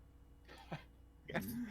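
A man clears his throat twice in a quiet room, two short, soft rasps a moment apart with a faint voiced tail on the second.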